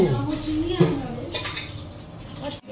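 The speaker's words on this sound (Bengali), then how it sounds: "এখানে পুন্টু এখন বাসন মাজছে" Dishes, pots and pans being scrubbed in a home kitchen give off scattered clinks and clatters along with splashing water, while people talk nearby over the washing.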